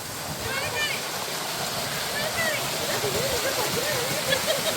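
Blapila waterfall near Chengara pours in a loud, steady roar of rushing water heard up close, with faint higher-pitched chirping sounds over the continuous wash.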